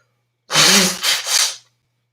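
A single loud, close sneeze bursts out after a short silence, with a sharp intake and a double-peaked explosive release lasting about a second.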